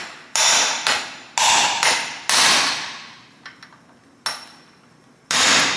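Sharp metallic hammer blows on a steel punch during Volvo brake and wheel bearing work, about eight strikes in uneven bursts with short ringing decays, close and loud with no talking.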